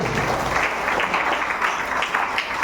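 Meeting audience giving loud, dense applause, a steady wash of many hands clapping close by that holds at an even level throughout, with no voices standing out.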